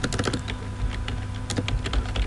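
Fast, close clatter of fingers typing on a computer keyboard, the keystrokes coming in dense, uneven bursts without any talk.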